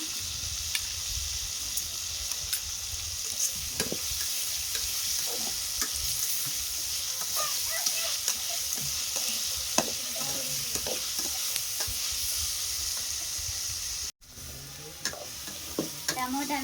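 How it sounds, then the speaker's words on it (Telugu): Tomatoes frying with salt in a pan while being stirred and scraped, a continuous close sizzle with frequent utensil clinks, briefly cut near the end, no talk. "టమోటాలను అయితే దారుగా వేయించుకుంటున్నాము."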